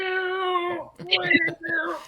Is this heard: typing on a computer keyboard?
no